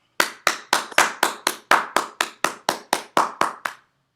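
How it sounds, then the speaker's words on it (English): Steady, evenly spaced hand claps, about fifteen sharp crisp strikes in a regular rhythm, greet a speaker at a speaking-club meeting. The claps are close and clear, with no talking. "Ladies and gentlemen, let's give a round of applause for Cynthia Stott."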